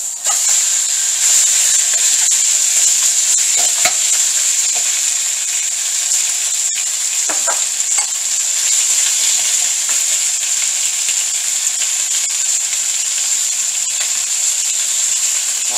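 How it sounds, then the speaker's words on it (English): Pork ribs sizzle steadily in a hot frying pan as their fat renders out. A bright, constant hiss runs close and loud throughout, with occasional faint clinks and stirring noises. "Now we're going to fry the ribs and render out the fat first."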